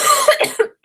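A person coughs a few times in quick succession, close and fairly loud, ending with a brief pause and one more short burst.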